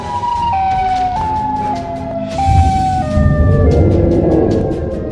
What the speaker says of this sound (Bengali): সাইরেন এসছে